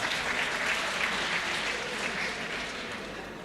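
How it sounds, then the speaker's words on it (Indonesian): Steady, dense applause from a crowd at a Politeknik Pekerjaan Umum graduation ceremony, loud and continuous throughout before easing slightly toward the end, with no voices rising above it. "Tepuk tangan buat Danan Samudra mana?"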